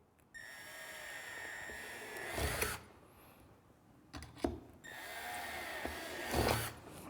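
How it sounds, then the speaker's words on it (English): A power drill whines in two short bursts as it bores through plastic during a subwoofer speaker install in a 2018-onward BMW G01 X3, close and clear with quiet pauses between. "now we simply just take our drill, slowly"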